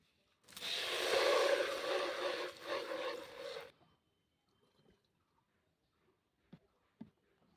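Pesticide liquid poured into a container for treating brinjal plants against shoot and fruit borer: a steady splashing, gurgling pour for about three seconds, then quiet with a few faint drips and small knocks.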